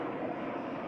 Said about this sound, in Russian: У меня тут самолет летит.